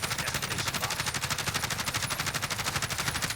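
Rapid automatic gunfire from the shooter game Warzone, a dense, even stream of shots in a fast steady rhythm lasting throughout, loud and close with no voices.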